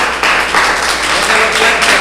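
Congregation at a Messianic Passover service clapping, a loud irregular patter of hands with a few sharper strikes over about two seconds.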